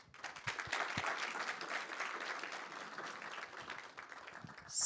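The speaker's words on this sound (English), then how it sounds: "I would like to ask you one more round of applause" Audience applause at a digital twin hackathon final, a crowd clapping steadily and fairly faintly for several seconds in an indoor hall.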